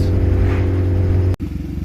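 A boosted Honda Integra engine drones steadily and loudly while accelerating in fourth gear, with a brief sharp dropout near the end before the engine note picks back up.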